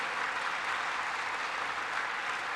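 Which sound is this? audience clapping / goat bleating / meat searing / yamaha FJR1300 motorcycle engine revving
audience clapping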